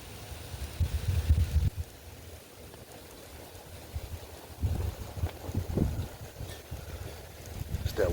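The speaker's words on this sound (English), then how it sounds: "That wind is blowing too hard." Strong wind blows hard outdoors at a barbecue, coming in rough gusty surges of low rumbling noise against the microphone, with quieter lulls between the bursts.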